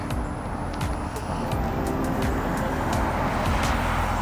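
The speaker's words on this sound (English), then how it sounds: "Truck." A vehicle, identified as a truck, passing on a road: a steady broadband rumble of tyres and engine, fairly loud and continuous, with scattered sharp clicks on top.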